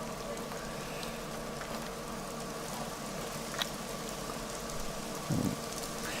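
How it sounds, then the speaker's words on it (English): Rain in the hunting game theHunter: Call of the Wild, a steady soft hiss and patter covering the whole stretch, with a faint tick and a brief low thump near the end. "with the rain that will help mask any noise that we're making"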